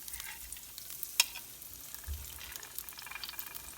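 Garlic and ginger frying in hot oil over medium heat, a quiet steady sizzle with light stirring and one sharp utensil tap.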